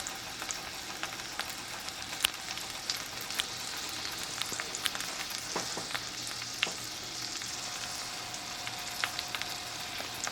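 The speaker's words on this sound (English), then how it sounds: "We're just gonna let that sear." Food sears face down in a hot pan for a gourmet Valentine's dinner, giving a steady close sizzle with scattered pops and crackles throughout and no talking.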